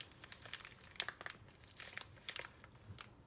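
A plastic bag crinkles and crunches in irregular bursts as cloth holding japanning is twisted inside it, close and fairly quiet with no talking.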